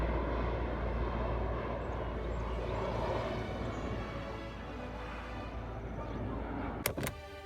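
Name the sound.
old cargo plane flying overhead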